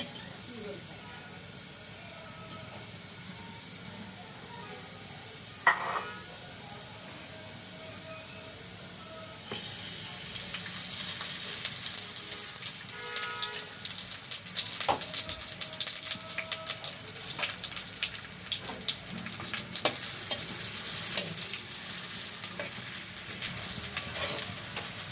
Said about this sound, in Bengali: তো কড়াই বসিয়ে দিলাম, এখন আমি পেঁয়াজ দিয়ে দিব।